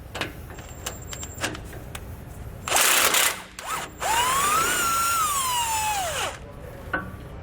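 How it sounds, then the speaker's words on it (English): Ratchet wrench with a 15mm socket loosening sway bar bolts on a 2014 Forest River RV during a Roadmaster front anti-sway bar install, heard as a loud burst of mechanical whirring and clicking, then a long steady whine. "we're going to be using a 15mm socket to remove them"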